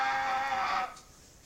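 A child vocally imitates a plant-eating dinosaur with one sustained, bleat-like cry of about a second, fairly close and loud, then it breaks off into quiet.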